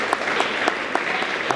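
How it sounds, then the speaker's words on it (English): An audience at a film Q&A session applauds, a dense spread of clapping with a few sharper claps standing out, loud and sustained throughout. "he'll really appreciate that he got applause when I just mentioned his scene"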